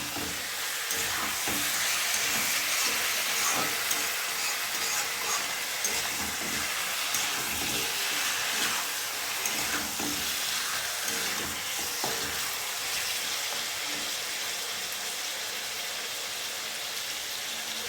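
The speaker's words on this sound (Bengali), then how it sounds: "এটাকে ভালোভাবে কষিয়ে নিতে হবে" Chicken curry masala with turmeric sautés in a hot pan, a steady loud sizzle and hiss running continuously, with occasional stirring scrapes breaking through the frying noise and no talking.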